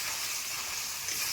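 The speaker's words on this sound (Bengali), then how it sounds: "এবার মশলাটা আমরা ভালো করে কষিয়ে নেব।" A spice mix with chopped tomato and turmeric fries in a pan for biryani, giving a continuous, even hiss of sizzling oil, close up and with no voices.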